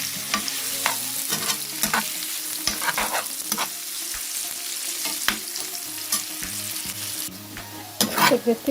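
Long-cut vegetables frying in hot oil, a steady near sizzle punctuated by frequent sharp spatula scrapes and knocks against the pan, with no talking.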